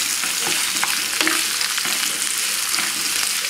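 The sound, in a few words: sauteing shallots and spinach on high flame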